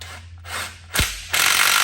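An impact gun rattles the new top nut down on a Holden Commodore VT–VZ front strut in three short, loud bursts close by, the last one longest.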